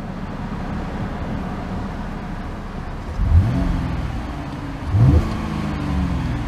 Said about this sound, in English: I'll give it a quick rev for you guys.